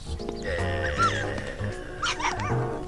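A puppy gives a few high yips and whimpering barks over a steady tonal background.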